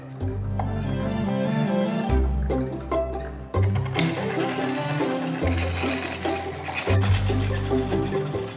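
A rotating drill machine cuts discs from a mussel shell held in tongs for button making, a steady loud mechanical whir with periodic pitch shifts and interruptions running throughout.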